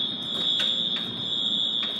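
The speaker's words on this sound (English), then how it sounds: "All I know is the alarm is going on." A waterfront alarm sounds continuously, a piercing steady high-pitched tone with faint pulsing beeps, fairly close and alone with no talking.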